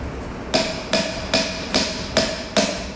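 Six evenly spaced metal hammer strikes drive a seal into a trailer wheel hub using an old lawnmower axle housing, each a sharp clanging hit with a short metallic ring in a steady rhythm.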